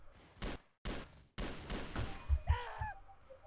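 Gunshots in the 2D shooter game Stick Veterans: several sharp, close shots in quick succession, with brief gaps between them, followed by heavier impacts and a short whining effect near the end.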